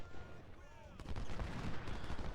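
Sniper rifles firing in a Civil War battle video game, the Cedar Mountain engagement, with sharp cracks and booming shots that grow denser and louder partway through over a continuous battlefield rumble.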